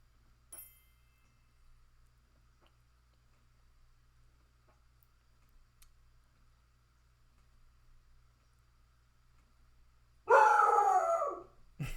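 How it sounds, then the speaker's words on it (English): A dog howls and barks in one loud burst lasting about two seconds near the end, after a long stretch of near silence with a faint click early on. "I'm gonna go deal with the dog."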